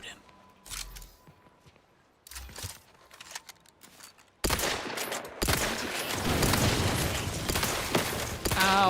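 Gunshots ring out in The Outer Worlds 2 after a quieter stretch of clicks and movement, becoming a loud, sustained burst of rapid fire that continues to the end, with a voice speaking along the way.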